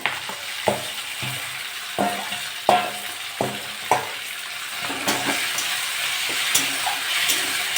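Peeled prawns frying in a pan, a steady close sizzle broken by repeated sharp clacks and scrapes of a spatula turning them, several distinct knocks spread across the stretch.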